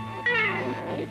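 A cartoon cat meows once in a short, close, harmonic call within a dubbed Korean animated fairy tale featuring a cat in red boots.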